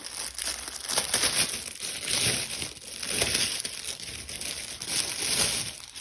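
Crinkly plastic packaging around a synthetic-looking bag is torn open and handled, giving loud, close, continuous crinkling and crumpling in repeated waves.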